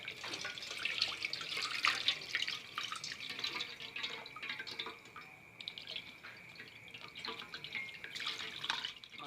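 Potatoes are rinsed under a running kitchen tap, giving a faint, uneven splash and patter of water with small drips and bursts as the food is moved through the stream.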